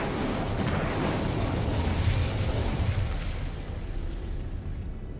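Incendio fire spell cast in Hogwarts Legacy, a loud sustained fiery whoosh and rumbling burst that swells over the first two seconds, then slowly fades while staying steady to the end.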